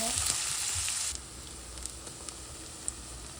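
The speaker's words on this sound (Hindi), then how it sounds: "प्याज को हम थोड़ा सा पकाएंगे, थोड़ा सा कलर चेंज हो जाए।" Onions frying in a pan for Pakistani mutton bhuna gosht give off a steady close sizzle that drops to a quieter, softer fry partway through, with a few light pops and stirring taps.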